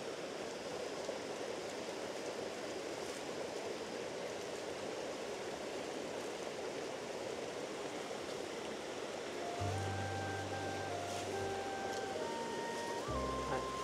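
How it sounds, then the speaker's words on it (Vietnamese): A mountain stream flows in a steady, full rush of water close by, constant and unbroken throughout, with a few faint tonal background sounds joining near the end. "Cái khe suối này thì có sâu không chỗ này à Hưng?"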